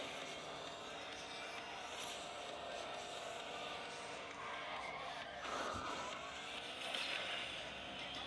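Car engine and skidding in a mobile racing game played on a Nexus 6 phone, heard as a steady, fairly quiet engine drone with a brief louder swell near the end and no talk.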